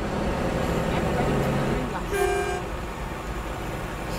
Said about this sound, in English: So listen to the horn